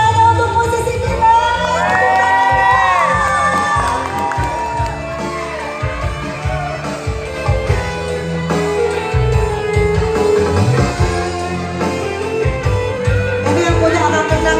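An audience at a pasanggiri competition event in Bandung cheers for the musicians, crowd shouts, whoops and children's yells swelling loudly together over a steady background of music.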